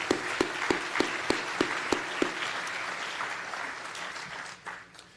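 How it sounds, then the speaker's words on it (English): An audience applauds steadily for several seconds after a university lecture introduction, with a few sharper claps standing out early before the clapping fades away. "Let's give them a round of applause."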